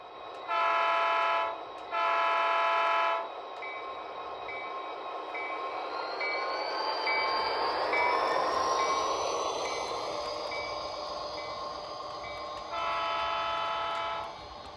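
An Athearn SOU 3170 model locomotive sounds its horn in two sustained blasts, then a third after a stretch of rumbling, squealing running noise.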